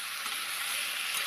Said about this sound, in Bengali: একটু জল দিয়ে দিলাম, জল দিয়ে ভালো করে কষিয়ে নেব মশলাটা।